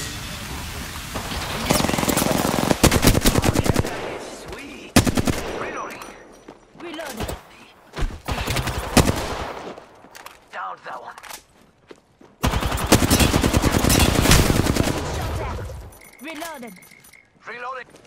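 Gunfire aimed at the player in a shooter video game, with bursts of rapid automatic shots that start and stop across the stretch and a person talking between and over the shooting.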